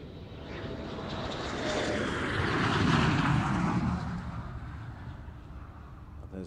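Eurofighter Typhoon jet in a flying display at the Farnborough airshow in decreasing visibility, a loud roaring pass that swells to a peak midway and then fades as it recedes into the distance.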